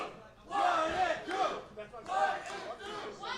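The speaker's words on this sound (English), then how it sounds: "Crowd chanting, "What it do?"" A crowd at an independent wrestling event chants in rhythmic unison, loud roaring voices rising and falling in repeated phrases, heard from amid the audience.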